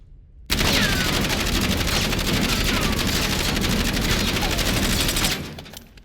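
Sustained automatic fire from a Kilo assault rifle in Call of Duty, a dense, loud, continuous burst of rapid shots lasting about five seconds before cutting off abruptly.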